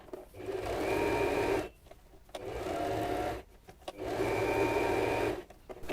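Sewing machine stitching quilted scrap fabric patches, running in three steady whirring bursts of about one and a half seconds each, separated by brief pauses, close and loud with no talking.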